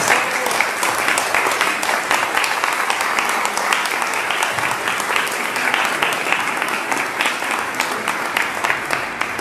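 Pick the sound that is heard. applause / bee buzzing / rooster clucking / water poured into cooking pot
applause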